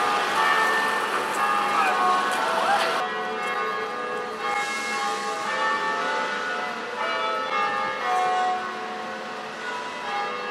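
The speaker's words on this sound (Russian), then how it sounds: "Колокольчики звонят, церквушки." Church bells ring out with a rich, sustained metallic tone, layered over steady outdoor noise and passing traffic, with voices murmuring in the background.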